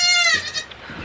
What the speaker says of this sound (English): Every goat's screaming.